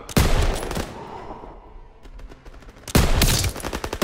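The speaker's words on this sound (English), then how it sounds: "MGs, open fire!" Machine guns in Call of Duty WWII open up in a loud burst of rapid, overlapping automatic fire, fading into scattered distant shots, then erupting again in a dense fusillade near a bridge over the Seine.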